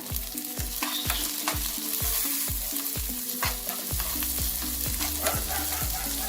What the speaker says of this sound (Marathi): आपला कांदा छान परतलाय त्यात आपण टोमॅटो थोडा टाकून घेऊ